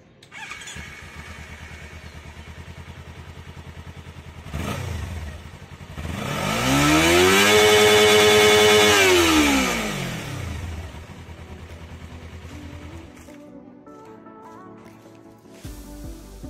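Kawasaki Ninja 300 twin-cylinder motorcycle, a 2018-19 model, idling steadily and then revving up in one long swell that peaks and falls back to idle, heard from a distance with no talk over it.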